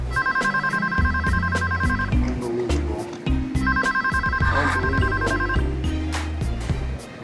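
A telephone rings in two long electronic trilling bursts with a pause between, loud and close, while a voice speaks briefly over it amid some background clatter.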